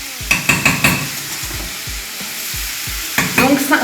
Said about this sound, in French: j'enlève le couvercle, je remue, etc.